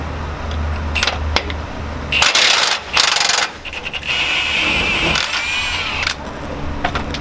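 Impact gun working a bolt loose on a Lexus GX470 driver's side, heard as a few short loud mechanical bursts between quieter workshop sounds and a steady high whine.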